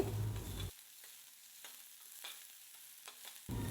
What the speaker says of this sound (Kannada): ಒಂದು ಸ್ವಲ್ಪ ಆಯಿಲು, ದೆನ್ನು ಸಾಸಿವೆ, ಜೀರಿಗೆ, ಕರಿಬೇವು, ದೆನ್ ಆನಿಯನ್ ಇದಿಷ್ಟನ್ನ ಸೇರಿಸ್ಕೊಂಡು ಚೆನ್ನಾಗಿ ಫ್ರೈ ಮಾಡ್ಕೊತಾ ಇದ್ದೀನಿ